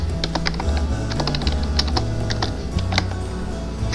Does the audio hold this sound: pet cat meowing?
no